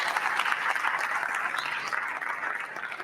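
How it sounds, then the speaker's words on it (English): An audience applauds at a Nigerian National Orientation Agency event honouring a journalist. Dense, steady clapping carries on evenly throughout, heard at a moderate distance. "This is a resounding applause"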